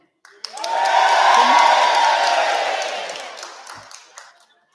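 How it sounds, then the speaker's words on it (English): A graduation audience on one side of the room lets out a loud cheer with clapping, a single swelling roar that rises quickly, holds for a couple of seconds and fades away. "your loudest, proudest cheer on this side of the room"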